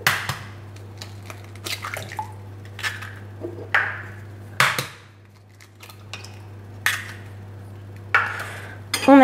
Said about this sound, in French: nous allons mélanger les aliments qui sont humides